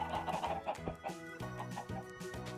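Chickens cluck repeatedly in a Minecraft game running the Volcano Block mod, version 1.12.2. Several short overlapping clucks and squawks sound close and steady, with no talk over them.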